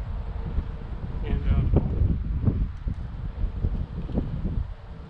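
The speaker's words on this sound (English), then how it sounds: "It's a little windy out here today, so probably going to be kind of tricky." Gusty wind at an outdoor rifle shooting range buffets the microphone with low rumbling surges that swell and fade across several seconds, steady and close with no gunshots.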